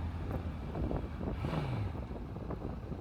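Honda CBR650F motorcycle exhaust while riding in India, a steady engine drone buried under heavy wind rush across the whole stretch.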